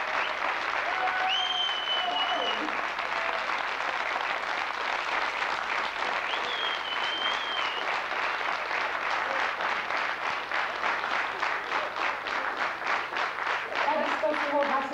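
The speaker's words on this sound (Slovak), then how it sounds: "Preto by som poprosila potlesk pre našu porotu" An audience at an outdoor evening festival gives loud, sustained applause for the jury and organizers, dense clapping filling the whole stretch while a voice calls out briefly over it.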